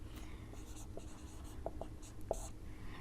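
Chalk or marker writing math on a classroom board during a Hindi lesson on recurring decimals, heard as a few short, faint taps and scratches spread over a quiet background.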